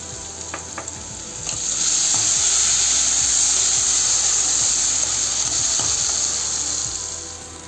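A kitchen mixer grinder processes ginger and tomato, starting after a brief quiet moment and then whirring loudly and steadily with a bright, high motor whine until the end.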